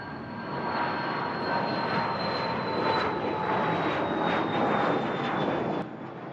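Military fighter-bomber jet aircraft from the Vietnam War era roaring steadily overhead, a continuous broadband engine rumble with a faint whine that holds level for several seconds before easing slightly at the end.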